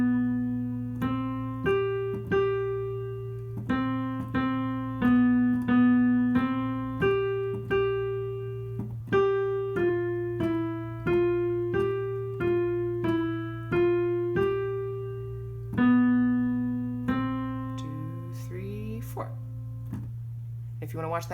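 A simple beginner lesson-book piece is played on piano as clear single notes in a slow, steady rhythm, with a constant low hum underneath and a few quieter notes at the end.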